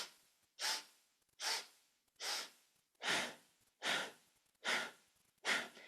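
Rhythmic pranayama pumping breaths during a kundalini yoga kriya, seven strong, evenly spaced forceful exhalations about once every 0.8 seconds, close and fairly loud with brief quiet gaps between them.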